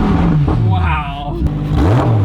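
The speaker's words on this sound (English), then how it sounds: "And rev it. How do you rev it? Press the gas." A Lamborghini Huracan Evo engine is revved close by. It climbs and falls in a quick blip, then rises again in loud, throaty pitch sweeps, with brief overlapping chatter.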